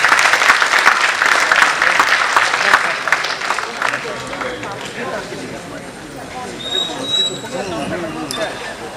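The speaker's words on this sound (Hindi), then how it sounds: "एक बार ताली यहां पर जरूर बजाइए।" Audience at a Hindi-language artists' gathering in Uttar Pradesh claps in a dense burst of applause that fades out after a few seconds, followed by quieter murmuring and sparse sounds.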